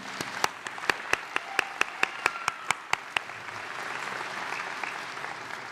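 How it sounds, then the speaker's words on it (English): Applause at a Macomb Community College commencement ceremony: one nearby pair of hands claps in a quick, even rhythm over a broader crowd ovation, which carries on as a soft wash after the close clapping stops. "Can you join me in giving them another round of applause?"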